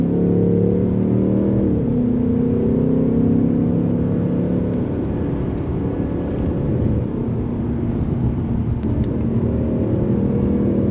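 Stock Kia car engine accelerating steadily and loudly up close, a continuous rising drone with a shift change partway through, fairly quiet exhaust tone dominating throughout with no talking.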